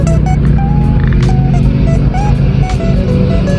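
Off-road trail vehicles run noisily along a dirt track at a Bulacan riding spot, a steady loud engine drone with a few higher whining tones over it throughout.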